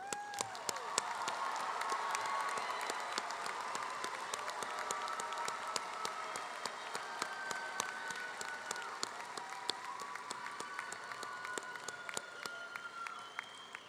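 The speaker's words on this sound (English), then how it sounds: "let's give them one more round of applause." A big commencement crowd applauds new graduates with sustained clapping and some cheering, moderately distant and continuous throughout.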